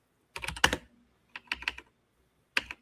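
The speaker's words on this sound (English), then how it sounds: "Let's see what he's typing." Someone typing on a computer keyboard in three short, quick bursts of clicking keys, close and clear against an otherwise quiet background.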